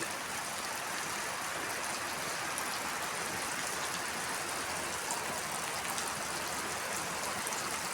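A light rain shower falls steadily over a village, a soft, even wash of drops with no voices.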